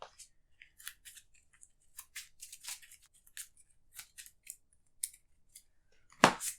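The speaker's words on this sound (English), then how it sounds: "This card gets shuffled back into his deck." Playing cards being shuffled back into a deck during an Arkham Horror card game at a tabletop, a run of soft, quick riffling and sliding bursts close by, with a sharper flick near the end and no talk.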